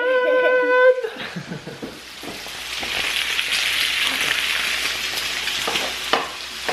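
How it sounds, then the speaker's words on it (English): Bacon frying in a home kitchen on a Saturday morning, a steady close sizzle and crackle that runs throughout after a brief opening tone, with occasional utensil clinks. "my dad is making some bacon."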